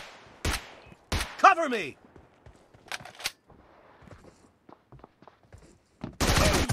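Bursts of gunfire in the battle-royale game PUBG/BGMI, several sharp loud volleys spaced apart with a long dense burst at the end, with a player talking between shots.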